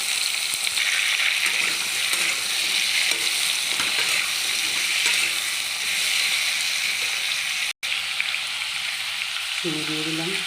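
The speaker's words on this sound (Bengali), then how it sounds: "কেটে রাখা মিষ্টি কুমড়ো আর আলু তেলের মধ্যে দিয়ে দিলাম।" Pumpkin stalks, cut pumpkin and potato fry in hot oil with panch phoron in a home kitchen, giving a loud, steady sizzle close by with light stirring scrapes and a brief clatter near the end.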